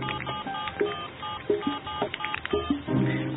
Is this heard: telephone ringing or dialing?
yes